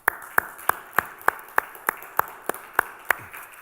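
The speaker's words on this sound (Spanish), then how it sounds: "yo quiero que le demos un aplauso a nuestro grupo de adoración" A church congregation claps in a steady, evenly spaced rhythm, about a dozen sharp hand claps in under four seconds, crisp and fairly close with no voices over them.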